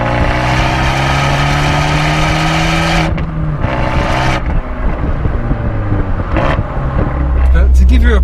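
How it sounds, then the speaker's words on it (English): An Abarth 124 Spider with a 1.4 litre turbo engine accelerates hard in sport mode, a loud, close, steadily rising engine roar that drops briefly at gear changes and then climbs again, with a deeper burst near the end. "Put it in sport mode and I guess it's less artificial noise and it's more based towards the performance of the car"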